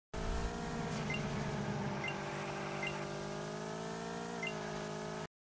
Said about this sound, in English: Off the start, you want to use most of your boost.